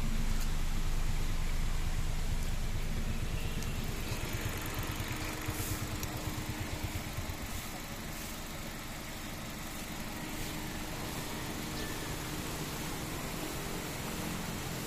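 Gasoline engine of a 2011 Hyundai Accent with manual transmission idling, a steady, quiet low hum that stays even throughout with no voices.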